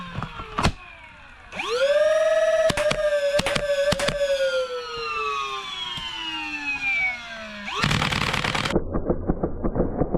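Rapid-fire 3D printed automatic Nerf blaster revving with a rising motor whine, then a loud burst of quick mechanical firing clatter, close and prominent.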